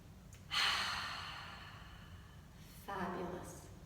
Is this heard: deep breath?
yes